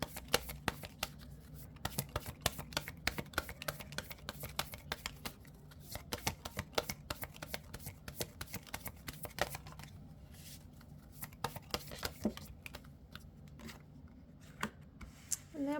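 Tarot cards being shuffled close by, a long run of quick riffling flutters and soft slaps repeating steadily with no one speaking.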